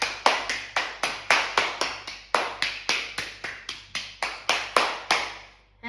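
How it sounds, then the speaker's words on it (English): A group claps at a steady, brisk pace, about three or four sharp claps a second, each ringing out briefly in a reverberant room. The clapping runs for several seconds, then fades. "let's give a clap."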